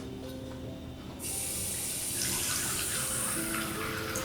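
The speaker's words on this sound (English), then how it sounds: "I'm just going to add a little bit of water." Water pours steadily into a mini autumn flower urn arrangement, a soft trickle that turns to a fuller, louder splash after about a second and keeps running until the end, with no talking.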